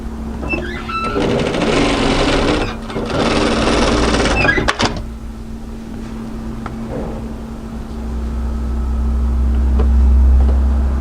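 A sewing machine stitches a funnel collar onto a hooded jacket, running in a loud fast whir for about four and a half seconds with a brief pause, then stopping, leaving a low steady hum.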